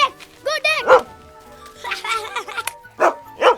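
Several short, high yelping barks from a small dog, in quick bursts separated by brief pauses.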